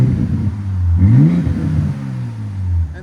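A 2025 RAM 1500 with the 3.0L Hurricane inline-six and a Flowmaster Super 10 exhaust is revved, its loud close exhaust note swelling into one quick rise, then settling back to a deep rumble.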